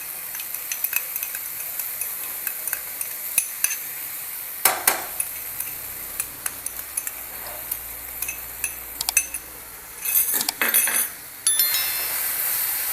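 Sauces stirred and sautéed in a pan over a high flame for Chinese bhel, with a spoon clinking and scraping against the pan and a soft sizzle running throughout.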